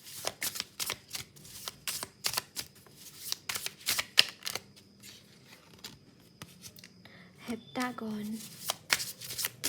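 Rapid, crisp riffling of tarot cards being shuffled in repeated bursts, close up, with a brief spoken word near the end.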